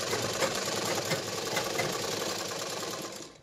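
A sewing machine stitches a silk blouse in a fast, steady mechanical chatter of the needle running close and continuous, then slowing and fading out at the end; no speech.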